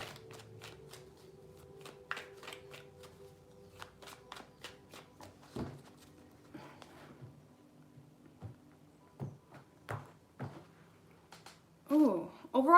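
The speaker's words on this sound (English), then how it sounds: "3 shuffles." A deck of tarot cards being shuffled three times up close, with a run of crisp, irregular flicks and soft riffling snaps at moderate volume, followed by a brief voice at the very end.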